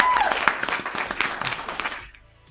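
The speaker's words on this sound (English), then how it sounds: "Another clap." Brisk crowd applause during a live stock-trading stream claps loudly for about two seconds, then quickly fades out into near silence.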